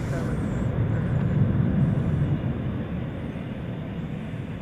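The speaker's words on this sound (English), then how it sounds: "Runway 18 left, good for takeoff." An airplane takes off from runway 18 left at DFW airport, a broad engine roar that swells and then eases off slightly as it moves away, heard from a distance with a steady hiss above it.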